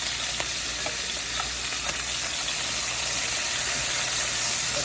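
Food for Thanksgiving baked beans fries in a pan, rendering down until crispy, with a loud, steady, dense sizzle and crackle that fills the whole stretch without any talk.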